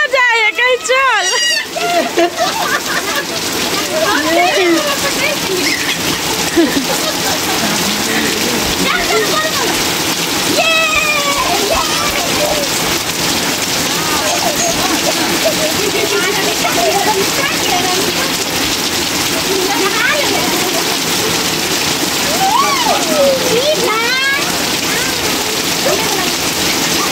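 Heavy rain pours down steadily and loudly throughout, a dense continuous roar with people talking over it at intervals.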